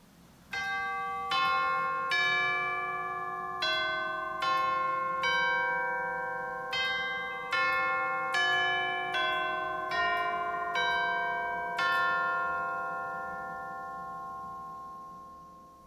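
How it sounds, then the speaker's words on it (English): Chimes of Arizona's largest church pipe organ at La Casa de Cristo Lutheran Church: a dozen or so clear, bell-like struck notes played in a slow melodic sequence, each ringing out and overlapping before a final lingering decay. "First, the chimes."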